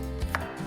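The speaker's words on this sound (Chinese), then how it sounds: "姜切片" A single close knife chop through ginger being sliced on a cutting board, one brief soft thud with no voices.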